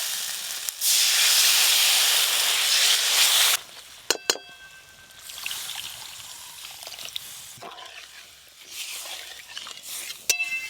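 Hot fried masala hisses loudly and steadily as a little water goes into the pan for a fish curry, then the sizzle drops to a softer bubbling with occasional clinks of utensils.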